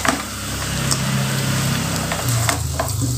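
Spicy sweet tempeh with fried chilies is stirred in a frying pan, giving a steady close sizzle with occasional scrapes of the spatula and no voices.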